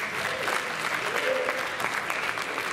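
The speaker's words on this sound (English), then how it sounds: "Let's give another round of applause." Audience applause at a high school graduation party fills the whole stretch, steady and dense with many hands clapping together, with some faint crowd voices mixed underneath.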